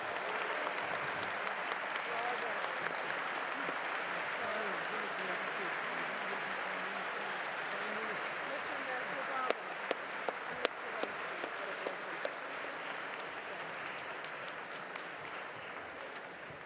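Sustained audience applause at the ZOA Superstar Gala 2024 fills a large hall, soft and somewhat distant but continuous, with a handful of sharper, nearer claps standing out in the latter half.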